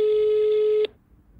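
A short, loud electronic telephone ring tone sounds alone for under a second, then cuts off abruptly into quiet room noise.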